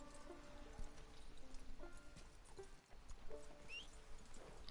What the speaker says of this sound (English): why is my horse going through the bushes when there is a path right there?